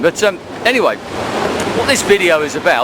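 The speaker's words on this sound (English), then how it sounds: "You might be able to hear the sort of waves crashing down behind me." Surf crashing on a stormy, breezy beach, a rushing roar of waves that swells between phrases and continues under a person talking close by.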